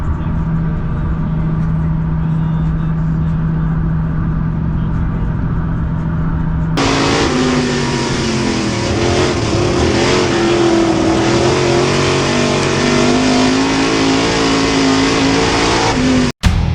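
A race car engine, tuned beyond a crate motor, revs loudly and steadily up close at a Friday-night Arrowhead Speedway setting, the note rising and holding strong before cutting off abruptly.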